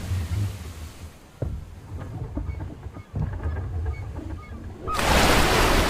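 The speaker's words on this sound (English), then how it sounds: "Beware, however, of the waves that it is hurtling against us." In a fantasy video game set near a dragon cave, a giant octopus hurls ocean waves that rumble and wash, with honk-like calls mixed in, before a loud broad rushing surge of water crashes in at the end.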